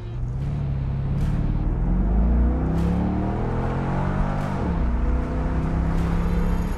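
A 2004 Corvette engine wound up toward 6000 RPM redline, a loud close rising roar with climbing pitch that shifts on its own partway through, then keeps pulling strongly.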